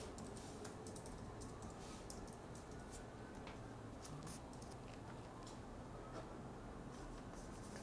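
Computer keyboard keys tapped while entering a search into a maps app, a steady run of quiet, close clicks over a faint constant background hum, with no voices.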